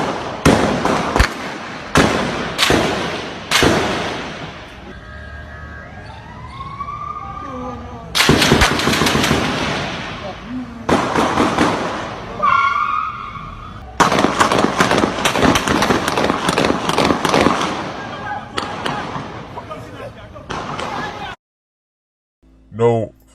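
Gunfire from a shootout in West Kingston rings out in a played recording, with rapid bursts of loud automatic shots alternating with single cracks and short pauses, and voices shouting between volleys.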